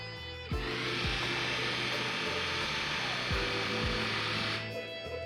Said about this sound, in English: If that sounds like drilling going on inside your head, you're not far off.